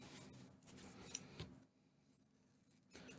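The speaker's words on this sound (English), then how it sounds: "This is only 1/4 inch foam, so it is absolutely fine to use scissors on it." Scissors snip through quarter-inch foam for a puppet build, a few quiet crisp cuts and rubbing sounds close by in a hushed room, followed by a near-silent pause and one final snip.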